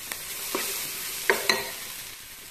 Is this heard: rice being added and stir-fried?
yes